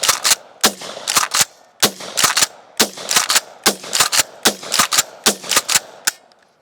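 A Kel-Tec shotgun fires mini shells in a rapid string of loud, sharp, close blasts, about a dozen shots in uneven pairs and clusters with brief gaps between them.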